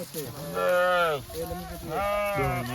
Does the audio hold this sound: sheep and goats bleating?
yes